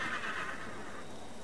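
Horse in a Wild West video game gives a faint, breathy whinny over a steady wash of background noise, brief and fading within a second and a half.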